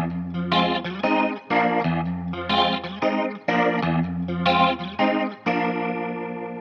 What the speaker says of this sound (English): I want to show you the organ riff, and this is pretty similar to what Booker T is playing on organ, but on guitar